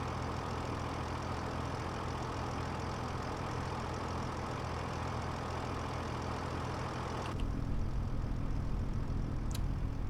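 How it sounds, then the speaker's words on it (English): Tractor engine idling in Farming Simulator 25, a steady low diesel drone that holds evenly, then shifts to a slightly different tone near the end. "Just chilling in a tractor, waiting for the harvester to come around."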